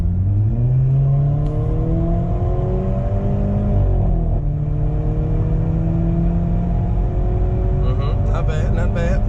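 An Audi A5 accelerates on the highway, its engine droning loudly and close with rising and falling tones as it shifts through gears, a voice speaking briefly over it.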